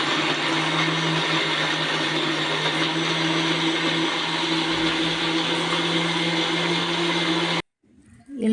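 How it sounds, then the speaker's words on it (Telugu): Kitchen mixer grinder whirring loudly and steadily as it grinds ingredients into a paste, a constant motor drone that cuts off abruptly near the end, leaving brief quiet handling noise. "మిక్సీకి వేసుకుందాము."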